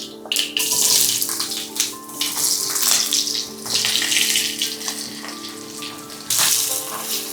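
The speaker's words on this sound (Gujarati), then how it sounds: "બટાકા નાખી દઈએ." Potatoes dropped into hot oil with cumin, a loud close burst of hissing sizzle that settles into steady crackling frying, flaring again near the end, with no talk.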